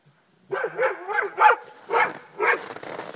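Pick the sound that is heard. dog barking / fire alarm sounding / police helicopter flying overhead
dog barking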